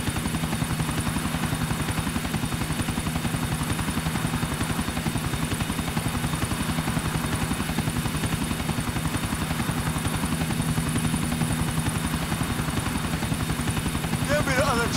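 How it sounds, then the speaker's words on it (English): A helicopter in the video game GTA IV flies with a continuous loud rotor chop and engine drone, steady throughout and close by, with brief faint voices near the end. "Give me the other chopper."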